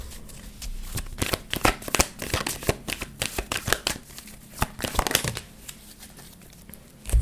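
A deck of tarot cards is shuffled by hand close up, giving a steady stream of crisp riffling and snapping bursts with short pauses between, no voices over it.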